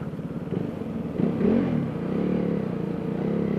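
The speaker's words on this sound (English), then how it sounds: "I think the rawness of the engine note really goes with the bike." A KTM Duke 390 single-cylinder motorcycle engine revs on the road with a raw, rasping note. It swells sharply around the midpoint, then settles into a steady, continuous drone close by.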